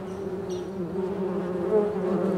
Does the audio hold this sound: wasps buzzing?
yes